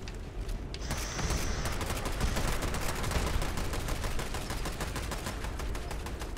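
Rapid automatic gunfire in the online shooter Fallout 76 Nuclear Winter, a dense, loud, continuous burst of closely spaced shots lasting several seconds, with no talking.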